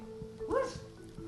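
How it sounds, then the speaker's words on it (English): A dog gives a single short bark with a whimpering edge, close by and alone against quiet room noise. "That's my dog."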